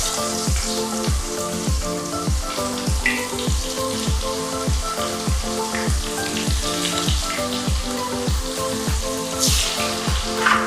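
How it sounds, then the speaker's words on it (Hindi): Rohu fish pieces sizzle steadily in hot oil, a dense crackling fry with a repeating rhythmic clatter running under it, close and fairly loud, with no talk. "ऑयल मेरा गरम हो चुका है, तो अभी मैं इसके अंदर फ़िश डालती हूँ।"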